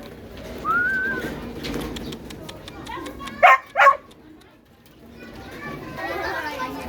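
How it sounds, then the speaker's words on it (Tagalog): A dog gives two quick, sharp barks close by, amid faint background chatter and outdoor ambience. "Ganda ng aso nila guys oh."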